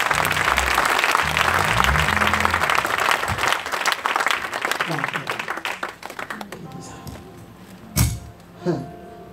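Audience clapping at a church sermon, a dense round of applause that thins and fades out after about six seconds, with talk running under it and a few thumps near the end.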